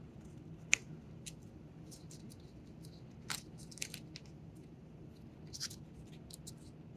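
Origami paper being folded and creased by hand: quiet, close crinkles and sharp crisp snaps at irregular intervals over a faint steady background hum.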